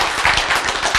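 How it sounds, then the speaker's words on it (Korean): Brief, lively clapping bursts from an audience at a church health talk on healing diabetes, a dense patter of many hands lasting about a second, with no talking over it. "박수!"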